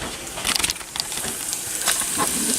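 Bacon sizzles in a hot pan, a steady close crackling hiss with brief louder pops, carrying on alone without talk.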